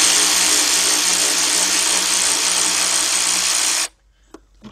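A powered ratchet turning a 10mm deep 3/8-drive socket to back out a bolt on a 2006 Kia Sportage EX 2.7 during head gasket work: a loud, steady whir for about four seconds, then abrupt quiet with faint clicks.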